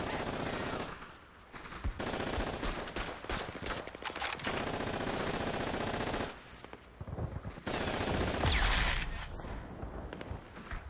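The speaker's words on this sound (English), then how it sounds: "Take out that damn machine gun!" Call of Duty: Big Red One gameplay with dense machine gun fire, sustained rapid bursts with brief pauses and a heavy blast near the end, loud and continuous throughout.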